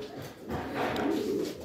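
Racing pigeons from a fun race in Cavite coo close by in a short, soft, warbling burst.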